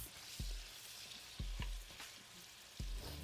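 Chopped vegetables sizzle and fry in a pan before flour goes in for a roux, a steady crackle broken by several soft clunks of stirring.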